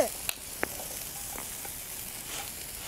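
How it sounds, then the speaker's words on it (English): Food sautéing in a pan, a soft steady sizzle running throughout at low level, with a couple of brief utensil clicks near the start. "Just gonna saute it for a minute or two"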